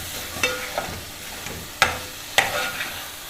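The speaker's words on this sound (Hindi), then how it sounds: "1 टेबलस्पून दही का इसमें जाएगा और इसको अच्छी तरह भूनना है।" Minced meat with a spoonful of yogurt is fried and stirred for keema with capsicum: a soft, low sizzle broken by four or five sharp scraping strokes of a spoon against the pan.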